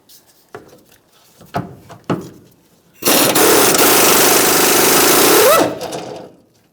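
A power tool spins out a 13mm mounting bolt on a 2015-2020 Ford F-150 during an air suspension kit install: a few sharp knocks and clicks, then a loud, continuous buzzing rattle lasting about three seconds before it cuts off.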